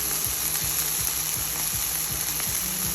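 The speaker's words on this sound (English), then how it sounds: "I've marinated and now I'm just shallow frying it with this steak." Marinated chicken steak shallow frying in a pan, a loud, steady close sizzle with faint scraping stirs and no talk.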